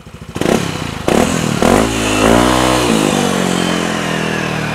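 A Yamaha Aerox scooter with its engine upgraded from 155cc to 195cc revs hard during a road test, loud and close, its pitch rising and falling through several throttle blips with some clatter.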